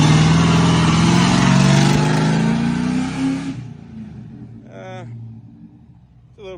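An LS-swapped Ford F-150 pickup holds a loud, steady engine roar on a two-step launch limiter at 2,500 rpm, then drops away abruptly, leaving a quieter idle with brief bursts of voices.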